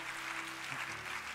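Applause from a congregation at a church service, a steady wash of clapping hands filling the room, with a faint sustained tone running beneath.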